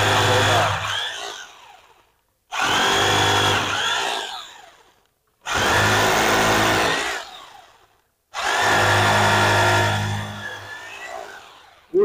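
An electric drill bores into a wall in four loud bursts of whining, grinding power-tool noise, each lasting about two seconds and separated by short silences.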